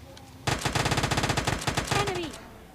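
Automatic gunfire from a weapon in PUBG Mobile Lite, a rapid burst of evenly spaced shots starting abruptly and running about two seconds, loud and close, with no talking.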